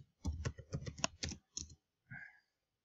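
Keys clatter on a computer keyboard in a quick run of close, crisp taps, followed by a short pause and one more brief burst.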